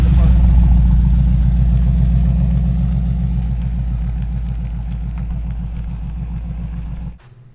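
El Camino engine running close by with a steady low rumble and rhythmic pulsing idle, easing slightly before cutting off abruptly near the end.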